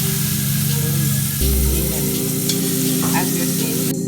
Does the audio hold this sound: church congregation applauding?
no